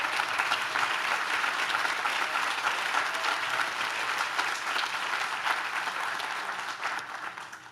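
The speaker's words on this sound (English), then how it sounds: "Give President Bro a round of applause for her leadership." Sustained applause from a ceremony audience at a plaza dedication honoring Lt. Richard Collins III, dense and steady clapping that holds loud throughout, then eases off slightly at the end.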